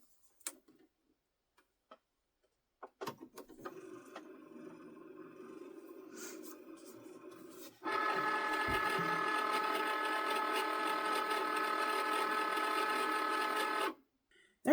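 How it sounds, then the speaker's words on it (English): Cricut cutting machine powering on with scattered clicks and ticks, then running with a steady mechanical whir for several seconds before stopping. "I'm going to turn my Cricut on."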